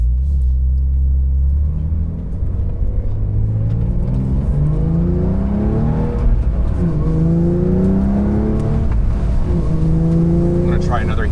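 Porsche 992.2 Carrera T flat-six blipping through heel-toe downshifts on a rainy drive, a loud close cabin rumble with repeated rising rev sweeps stacked over steady road drone.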